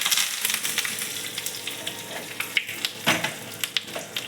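Crackling sizzle of curry leaves, mustard seeds and chillies hitting hot oil, with sharp irregular pops and spits over a hissing bed of frying, fairly close.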